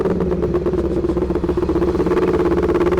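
A motorcycle engine runs loud and close with a steady pulsing rumble, its pitch holding fairly even as it passes.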